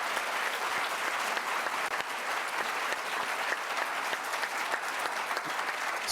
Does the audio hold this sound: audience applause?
yes